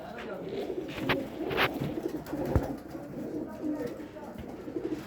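Home-bred pigeons at a breeding setup give soft, low coos close by, mixed with rustling and movement, while someone talks over them.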